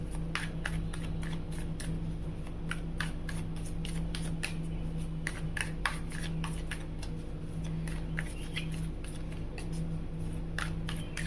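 Tarot cards shuffled by hand in rapid, repeated riffling bursts of crisp papery clicks over a quiet background hum, close and steady.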